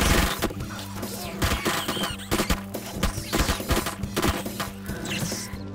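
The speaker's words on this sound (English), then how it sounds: "Let's use the AK." Rapid bursts of AK rifle fire in the survival game 7 Days to Die, loud and dense, with repeated cracking shots layered over a game music bed and impact crashes.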